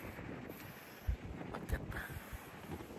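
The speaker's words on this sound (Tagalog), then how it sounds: "hindi naman masyadong malakas ang hangin" Wind blowing at Whitesands Bay beach in Pembrokeshire, Wales, buffeting the microphone as a low, steady rumble with a few brief gusty thumps.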